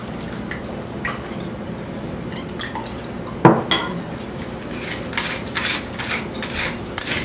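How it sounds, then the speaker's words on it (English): Eggs are whisked in a bowl with milk and cream, a light scraping and clinking of utensil against dish with one sharper knock partway through, close and moderately quiet. "whisk the eggs, add the 2 tablespoons of milk and cream, add salt and pepper to taste"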